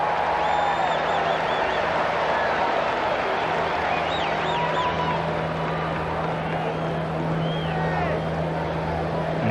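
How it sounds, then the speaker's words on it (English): A large baseball stadium crowd at a Braves versus Reds game gives a sustained, broad roar of mixed cheering and jeers, continuous and loud with a steady hum underneath. "A somewhat derisive cheer from the crowd."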